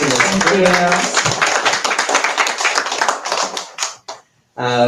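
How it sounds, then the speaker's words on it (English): People at a bookstore author event give a brief round of close, crisp clapping that overlaps speech at first, thins out into a few scattered claps and stops, before a voice starts talking again. "let's give another giant round of applause."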